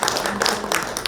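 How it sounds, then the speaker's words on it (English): A conference audience at a packaging event bursting into applause, dense close clapping from many hands filling the short moment without a break. "a huge round of applause to all those who made it for this one"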